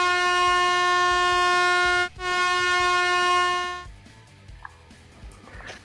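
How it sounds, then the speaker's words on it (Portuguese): An air horn blasts loud and steady for nearly four seconds, with one brief cut around the midpoint, at a live NFL mock draft announcing a pick. Faint background noise follows the blast. "Mais uma buzina saindo."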